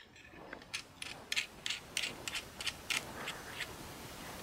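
Small nut being screwed by hand over a little red button on a model railroad control panel, giving a series of faint, close, irregular clicking and scraping turns with no talking.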